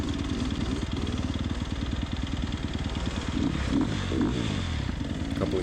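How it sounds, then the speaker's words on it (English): Dirt motorcycle engine revving in third gear at a harescramble race, a steady close rumble with rapid rhythmic pulsing throughout, loud and alone. "Couple of ego revs."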